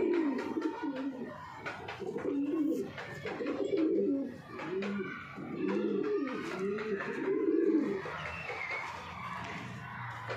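Pigeons coo in repeated soft, throaty phrases close by, with faint chirps and a little background noise.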